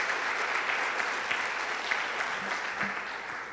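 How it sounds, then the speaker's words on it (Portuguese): A church congregation applauds during a Sunday sermon, sustained crowd clapping filling the room at an even level for several seconds, unbroken by speech. "Você pode aplaudir Jesus por isso?"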